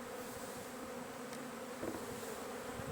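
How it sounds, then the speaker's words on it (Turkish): Honeybees robbing a beehive in January make a dense, steady buzzing hum, close and continuous, with no voices. "Ocak ayında arının böyle yağma yapması da enteresan."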